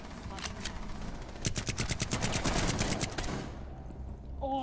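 Rapid automatic gunfire from a Rainbow Six Siege match, a dense burst of evenly spaced shots peaking in the middle before tapering off, loud and close.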